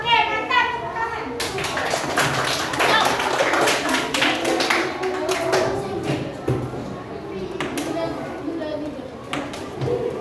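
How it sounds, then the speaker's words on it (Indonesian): Children in a classroom clap their hands in loose, uneven bursts, mixed with lively kids' chatter and a teacher's voice throughout. "Tepuk tangan."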